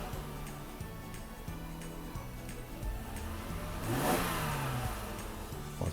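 A Mercedes W126 300SEL with a freshly overhauled fuel distributor revs up, its steady mid-pitched engine note rising and swelling midway, then settling back, loud and close with no talk.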